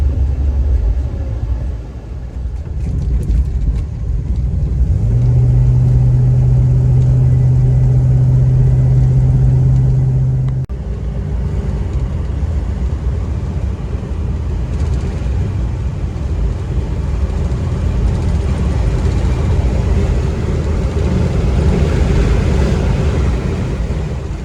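A Studebaker car with an upgraded sway bar cruising at highway speed, giving a steady loud low rumble of engine and road noise, with a brief sustained droning tone partway through and no talking.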